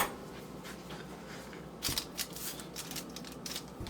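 A knife scoring a risen, doubled white sourdough dough that resists the dull blade, giving soft scraping strokes with brief rasping bursts in the middle, close and quiet with no talk.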